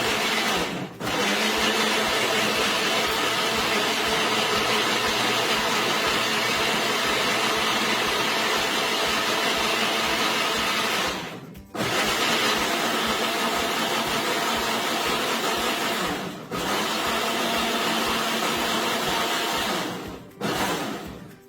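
A kitchen blender whirs loudly and steadily as it mixes a breakfast nutrishake, with two brief pauses where the motor stops and restarts.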